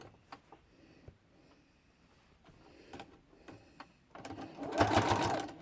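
A sewing machine stitches binding onto a quilt with a 1/4-inch seam allowance, starting after a few seconds of quiet handling noises and then running as a steady, buzzing whir close by.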